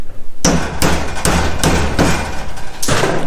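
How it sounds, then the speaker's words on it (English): Steady hammer blows on rusty, welded sheet metal during rust repair on a 1969 Chevy Nova, about eight loud, close metallic strikes at a fairly even rhythm with short ringing tails, no talking. "I'm going to go through here and I'll hammer this back some more."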